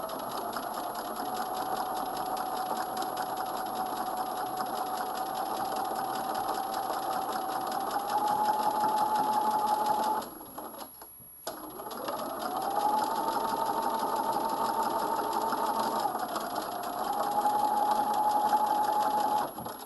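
Sewing machine stitching a coat seam runs with a steady, close whirring hum for long stretches, stopping briefly midway before starting up again and continuing to the end.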